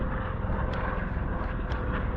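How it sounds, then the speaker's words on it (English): Helicopter flying over the Grand Canyon, a continuous near rotor and engine drone, steady and fairly loud throughout. "Choppers are going all the time here."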